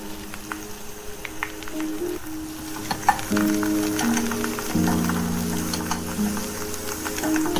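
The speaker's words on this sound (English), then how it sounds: "And then add onions and green chillies." Onions and green chillies frying with curry leaves in hot oil, a steady close sizzle with scattered crackles and pops and a rising hiss as they are added and stirred.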